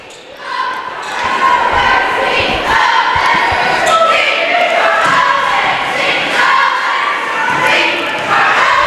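A crowd at a high school basketball game between the Spring Hill Broncos and the Eudora Cardinals, a loud, continuous roar of many voices with shouts and cheers, as sneakers and the ball thump on the gym floor underneath.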